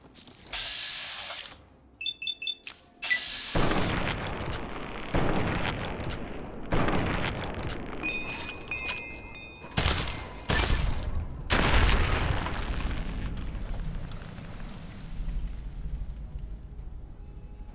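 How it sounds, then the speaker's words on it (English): Explosions and gunfire in the video game Fallout: Tale of Two Wastelands, a run of heavy booming blasts with sharp shots between them, some close and loud, others rumbling in the distance, with no talking. "where those explosions are"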